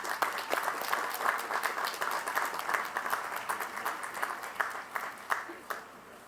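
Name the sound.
applause at commencement ceremony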